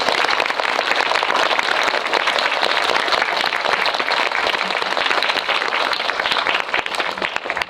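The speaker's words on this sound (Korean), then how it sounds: "박수로 환영해주세요." A cinema audience claps steadily to welcome a film director and actors at a screening talk for the film Maggie, dense and sustained applause that fills the room and tapers slightly toward the end.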